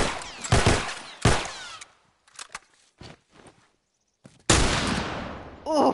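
Rifle shots in The Last of Us remake: two loud close blasts early, a few softer scattered impacts and footsteps, then a sustained roaring burst at the end.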